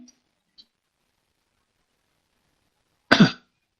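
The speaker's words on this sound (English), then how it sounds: "ended up with a cough" A single short, sharp cough near the close, loud against near-silence, with only a couple of tiny faint ticks earlier.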